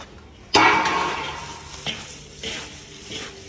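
Grass powder, crushed rapeseed and a little corn are stirred together as a feed mix for a pellet machine, giving a sudden loud rustling scrape followed by softer, shorter shuffling strokes.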